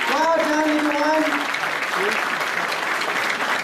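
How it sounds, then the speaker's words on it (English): Graduation ceremony audience gives a big round of applause, a full, steady crowd clapping throughout with a voice briefly audible over it at the start. "Can we have one big round of applause for these guys, please?"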